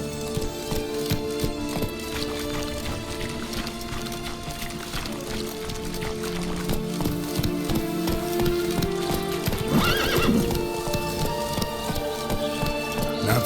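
Hooves of Roach, a horse in The Witcher 3: Wild Hunt, clop steadily in a rolling gallop under a dense bed of game music, with a louder burst of movement near the end; no clear neigh stands out.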